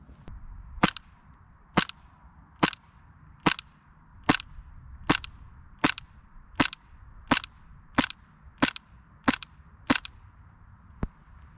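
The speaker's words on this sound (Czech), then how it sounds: "Teď přejdeme na střelbu z Green Gasu" A series of sharp shots from an airsoft gun running on green gas, about fourteen evenly spaced pops with quiet gaps between them, close and crisp.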